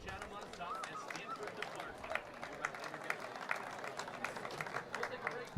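Scattered applause and cheering from Falmouth Commodores baseball fans at a summer collegiate game against the Chatham Anglers as the pitcher leaves the mound, a diffuse crowd wash with broadband claps and general ballpark noise throughout.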